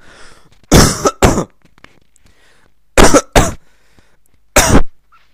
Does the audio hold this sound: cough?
yes